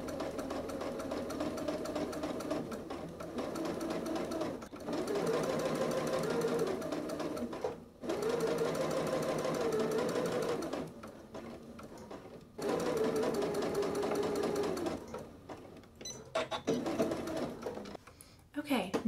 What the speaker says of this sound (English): I'm gonna keep the edge of my bias tape lined up with the edge of the seam allowance and just stitch all the way down